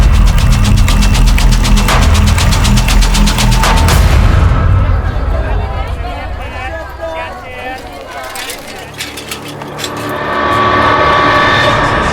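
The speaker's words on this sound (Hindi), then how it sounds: "उज्जैन के केसी मार्केट में ये बॉम्ब धमाका हुआ है" Bomb blast in a busy market, a loud booming burst at the start that rolls on for several seconds, then fades into rumble and debris noise before a second swell of roar.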